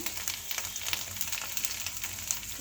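Spices frying in a pan with salt, turmeric and dry mango powder for stuffed bitter gourds, a dense steady sizzle with faint crackles and scraping under no talk, close and continuous.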